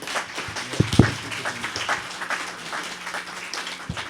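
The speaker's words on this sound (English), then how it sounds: "So again, another round of applause." Audience at a symposium session breaking into a round of applause, a brief spread of hand claps, moderately loud and somewhat thin, with a voice briefly heard.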